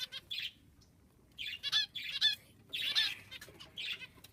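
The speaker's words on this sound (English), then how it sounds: "And I have 2 golden Italian quails." Golden Italian quails kept with a canary and doves give short, bright chirping calls in quick, uneven bursts, close by and fairly clear with no talk over them.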